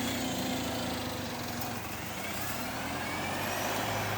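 A truck rolls around Skeoch Roundabout in Stirling, Scotland, heard as a steady broadband engine and road roar with a low drone throughout, fairly close and without any talk.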